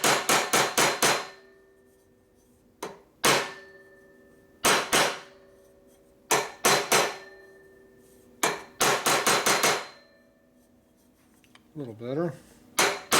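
A hammer striking a 1972 Harley-Davidson XL Ironhead Sportster exhaust pipe to flatten it, loud ringing metallic blows in rapid clusters of three to five with short pauses between, close up; someone speaks briefly near the end.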